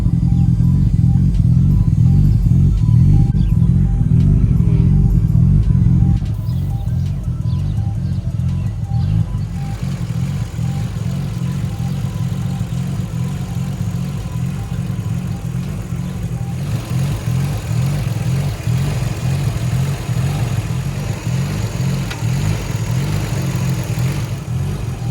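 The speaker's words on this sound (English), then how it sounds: "I finally just got that R34 Skyline GT-R." A Nissan R34 Skyline GT-R engine runs and settles into a steady idle, a close low rumble that drops slightly in level partway through, with faint bird chirps in the background.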